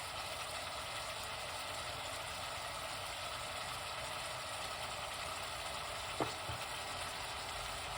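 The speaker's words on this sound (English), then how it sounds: "you have to make it fry up properly and get the flavor" Salted mackerel and callaloo fry in a pot, a steady, even sizzling hiss that holds throughout at moderate level, with a single brief knock near the end and no talking.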